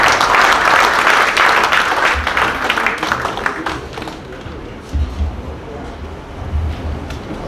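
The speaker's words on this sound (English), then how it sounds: "A round of applause, please." Applause from an audience at a book and author reunion event, dense and loud clapping at first that thins out and fades over several seconds, with low rumbling underneath.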